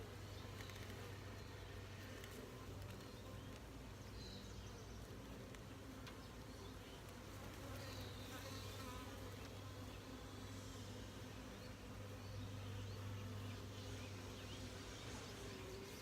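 Honeybees buzz around an open hive frame during a queen inspection, a soft, continuous hum with a few louder passes of single bees nearby, with no talking.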